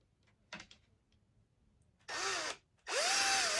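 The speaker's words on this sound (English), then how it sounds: "We're going to go up our next size bit" A power drill with a larger bit bores a hole through plastic: a faint rattle first, then two loud whirring bursts in which the motor pitch sweeps up and settles, separated by a short pause.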